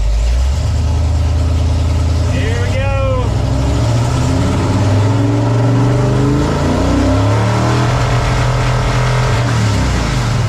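Race truck engine running loud and rough, revving up with a rising, then falling engine note; a voice talks over the engine noise.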